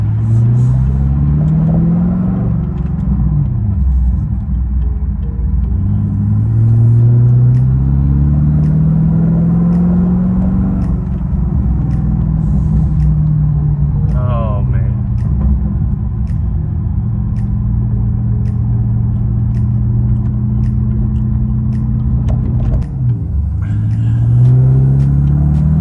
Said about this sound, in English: I'm just gonna drive the G8 around the corner, drive it around the corner, make sure everything is good.